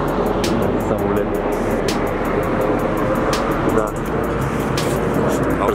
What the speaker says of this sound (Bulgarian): Самолет.